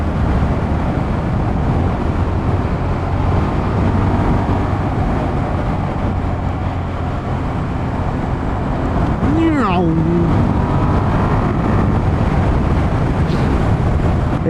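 A Suzuki SV650S motorcycle with a manual 6-speed gearbox, about 20 years old and very high mileage, riding with steady engine drone under heavy wind rush, and a voice speaking briefly partway through.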